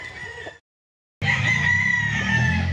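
A two-year-old Sweater gamefowl rooster crows loudly and close by; one crow breaks off, then after a brief silence a second strong, sustained crow follows.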